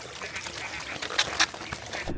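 Ducks quacking during a duck hunt on Arkansas public land, several short calls overlapping amid wind and background clatter, fairly close.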